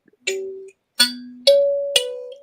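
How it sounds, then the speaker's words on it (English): Three-note NBC theme chimes played on a kalimba-like instrument, bright plucked tones ringing out one after another, close and clear, with a fourth note starting at the end. "Can you play the NBC theme?"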